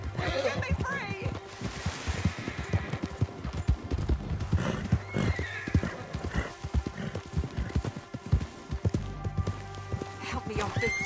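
Rapid hoofbeats of a galloping horse in Red Dead Redemption 2, loud and close, with a whinny and shouted voices over the pounding rhythm.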